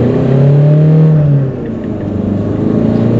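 A 2014 Citroen C4 Picasso diesel with automatic gearbox kicks down under acceleration, its engine drone loud and close inside the cabin, with a steady hum that shifts pitch partway through, no talk.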